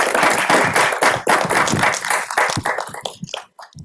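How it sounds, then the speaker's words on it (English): A seminar audience in a marine robotics talk breaks into close, lively applause with dense individual claps, thinning out and fading near the end. "Can we give him a round of applause?"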